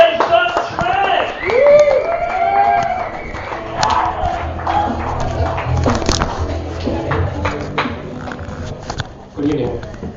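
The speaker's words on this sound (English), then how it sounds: "Let's have a big round of applause, everybody." Crowd at a comedy show clapping and cheering, with whoops and shouts rising and fading over steady applause, and a host talking over the noise.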